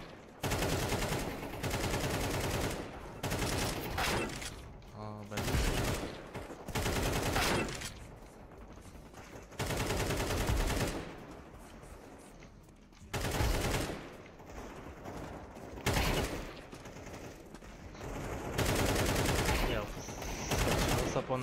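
Automatic weapons fire in Counter-Strike 2 comes in loud repeated bursts of rapid shots, separated by brief pauses, over about twenty seconds.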